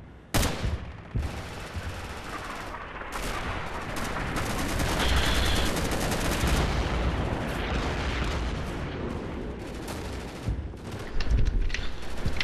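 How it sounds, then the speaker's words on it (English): A Battlefield-style video game battle erupts in gunfire: a sharp opening shot, then dense sustained volleys and bursts that keep up loudly for several seconds before trailing into scattered reports. "Shooting across the wall."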